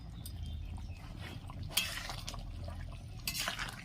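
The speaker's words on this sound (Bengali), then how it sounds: "ধনা পাতাটা দিয়ে ভালো করে নেড়ে নিলাম" Coriander leaves stirred into chicken do pyaza in a pan, soft scraping and a couple of light utensil knocks over a low background rumble, quiet and close.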